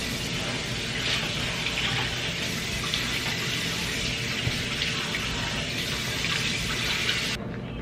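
Steady running water from a bathroom tap while someone rinses their face at the sink, a continuous close splashing hiss with no speech.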